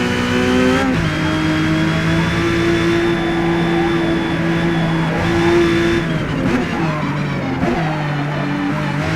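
A race car engine in the Forza Motorsport game whines loudly and steadily through a chicane, its pitch rising and dropping with gear shifts and throttle, with faint tire squeal and no voices.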